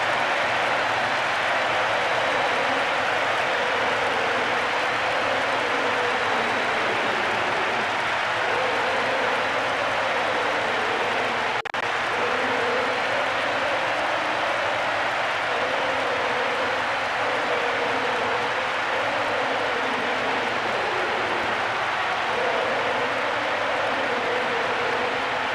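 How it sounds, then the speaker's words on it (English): Stadium crowd in the football video game PES 2012 on PS2 roars and jeers in a steady, dense wash of noise that runs unbroken throughout. "The crowd giving both manager and players some serious stick."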